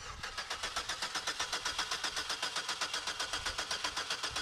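Chevrolet Equinox starter cranking without catching, a fast even chug of rapid repeated pulses at steady volume, close and continuous.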